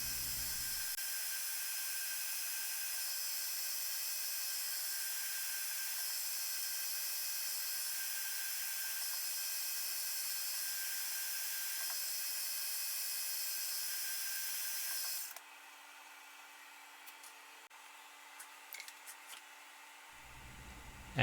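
A Cincinnati knee mill drilling a six-hole bolt pattern in a hub gives a steady, high-pitched machine whine for about fifteen seconds, then cuts off, leaving quieter background with a few faint clicks.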